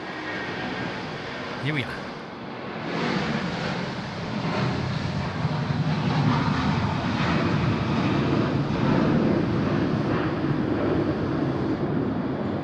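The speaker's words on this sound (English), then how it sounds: "Philippine Airlines. They've kicked the tires. They've lit the fires." A Philippine Airlines jet spools up its engines for takeoff, a broad rising roar building from a quieter start into a loud sustained rumble, with someone speaking briefly over it at first.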